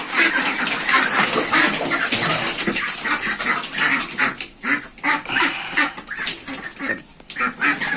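Muscovy ducks eating food scraps of leftover fish and rice, with busy dabbling, slurping and splashing up close, plus soft quacks and bird noises throughout.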